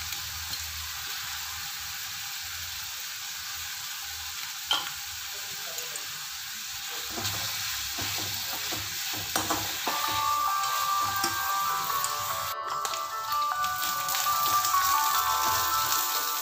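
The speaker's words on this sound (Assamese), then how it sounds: "অলপ ভজা যাব লাগিব কেপচিকাম" Capsicum frying in a pan in a home kitchen, a soft continuous sizzle that grows a little louder partway through, with a brief clatter and a faint tone near the end.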